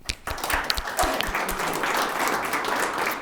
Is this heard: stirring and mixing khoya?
no